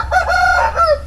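A medium-sized young Bicol native rooster lets out a single loud, close crow, a rising then falling call lasting about a second, with no talk over it.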